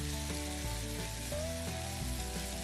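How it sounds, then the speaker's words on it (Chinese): Chicken stir-fried in a wok with oyster sauce, soy sauce and pepper gives a steady, close sizzle with soft stirring scrapes, running continuously beneath background music. "你们可以慢慢炒，炒出一点焦香就可以了"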